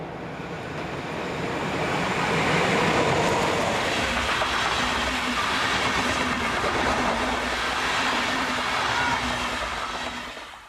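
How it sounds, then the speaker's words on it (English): Locomotive 110223 passes close by with a train from the München direction, a loud, steady rush of wheels and wagons rumbling for several seconds before easing slightly at the end. "This is the view looking south as 110223 passes with a service from the Munchen direction."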